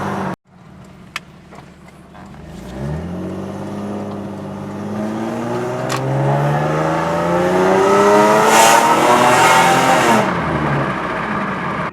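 A 2001-2005 Lexus IS300 with catless headers and a downpipe, its engine revved from idle into a long, rising, raspy climb, loud and close with no talking.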